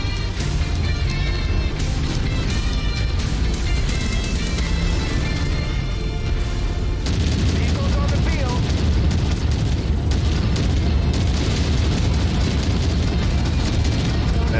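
Continuous rumbling explosion barrage in the mech combat game MechWarrior 5: Mercenaries, dense booms and bursts layered over each other, loud and sustained throughout.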